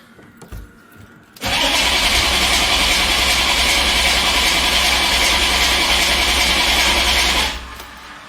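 A diesel GMC truck engine cranks briefly, catches and settles into a loud, steady running roar that holds for several seconds before dropping off, with a few faint knocks in the quiet before the start.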